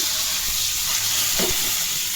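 Whole spices, dried red chillies and bay leaves frying in oil for an olive pickle tempering, a continuous close sizzle with a faint hiss and a short soft clatter of stirring midway.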